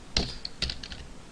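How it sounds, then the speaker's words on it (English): Computer keyboard typed slowly during Java game programming: two short bursts of key clacks, close and fairly loud, separated by a brief pause, with a few lighter taps trailing off. "I need to type this slow before I teach you."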